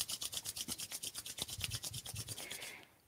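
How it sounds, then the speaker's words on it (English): Palms rubbed briskly together in a qigong exercise, a close, dry swishing rasp in a steady back-and-forth rhythm of about a dozen strokes, then stopping. "Rub your palms together again."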